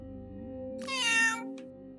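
A cat lets out a single drawn-out meow as it is lifted, close and clear over a low steady background hum, with no talk.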